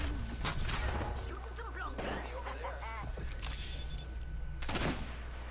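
Gunfire in the battle-royale shooter Apex Legends: bursts of rapid shots crackle in the mix, interleaved with players talking over game chatter and background effects.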